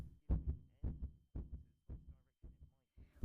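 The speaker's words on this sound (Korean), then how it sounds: "지금 이 소리는 길을 묻는 외국인을 만나 당황한 서울 사는 김모 씨의 심장박동 소리입니다." A heartbeat sound effect plays as a series of deep, evenly spaced double thumps, close and fairly loud, with silence between beats.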